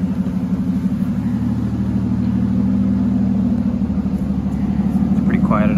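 A 2011 Aston Martin Rapide engine at idle, a steady low rumbling hum with an even, pulsing texture, close and continuous, with a faint brief clatter near the end.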